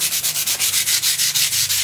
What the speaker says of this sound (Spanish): Voy a lijar el machimbre